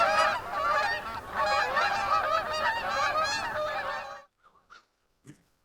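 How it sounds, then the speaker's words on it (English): A flock of geese honks loudly and continuously in open farm country, overlapping calls for about four seconds, then falls away to a few scattered faint honks. "the geese were getting ready to move north"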